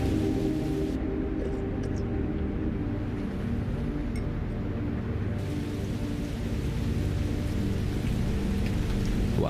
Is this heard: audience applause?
no